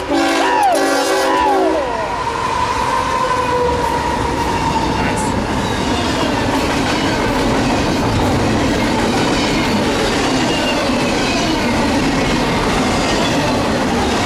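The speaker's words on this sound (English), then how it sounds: "This train's gonna be moving towards Long Beach." A train rumbles steadily past the platform at Fullerton station, heading toward Long Beach, with a horn blast at the start and continuous wheel noise after; a voice speaks briefly.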